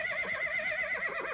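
A horse in a barn gives a single drawn-out whinny with wavering, shaky pitch, close and clear, with no talk over it.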